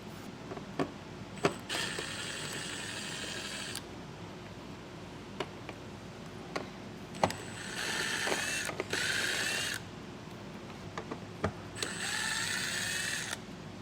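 A 7mm head screw being backed out with a powered driver near the trailer hitch area of a 2024 Buick Enclave, three separate bursts of whirring a few seconds each, with clicks and small clatters in between, close and without talk.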